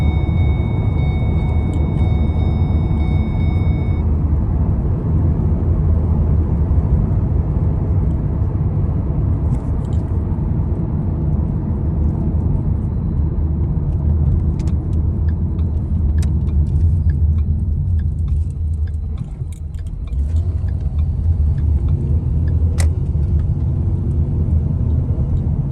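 A car rolls along at about 45 in overdrive with the torque converter fully locked up, after a cheap replacement transmission install, giving a steady, loud low engine and road drone that holds evenly throughout with no talking.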